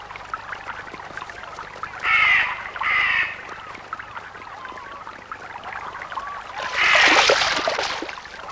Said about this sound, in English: the crows and ravens which come to scavenge the remains of fish